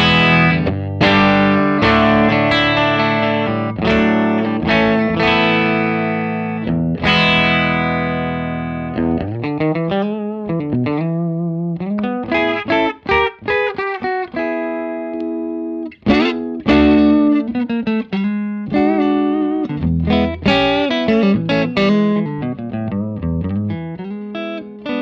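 Electric guitar played through a Fender Deluxe Reverb amp at about 4.5 volume, with strummed chords then single-note picking, a clean but slightly overdriven tone ringing out with no voices.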